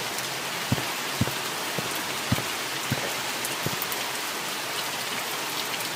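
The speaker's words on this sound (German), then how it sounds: "Es regnet." Steady rain patters down in The Mortuary Assistant video game, a broad hiss with a few louder drops landing now and then, no voices.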